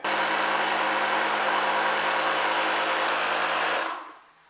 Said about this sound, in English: I'm going to try to do this with my Ryobi portable inflator.